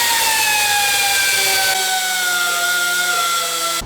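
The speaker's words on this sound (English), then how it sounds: "I'm gonna go at it with the Dremel to make it fit the space a little bit better" A Dremel rotary tool trims material to fit, giving a loud, continuous high-pitched whine whose pitch slowly drifts downward as the bit bears into the cut.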